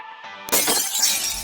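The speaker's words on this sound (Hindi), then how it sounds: "ये बेचारा तो कांच का दरवाजा खोलकर बाहर जा रहा था कि तभी दरवाजा अपने आप टूट गया" A glass door suddenly shatters with one loud, bright crash and a spray of tinkling fragments, after a brief tonal passage.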